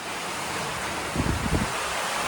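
Wind and rain outdoors on a village trek, a continuous roaring rush of wind noise buffeting close to the microphone, with a few heavier low gusts in the middle.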